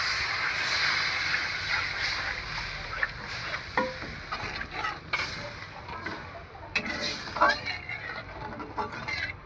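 Broth poured into masala frying in oil for a fish do pyaza, a close hissing sizzle with bubbling and stirring clatter throughout.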